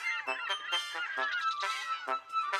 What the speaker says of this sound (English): Another goose, and then another, then another, then another.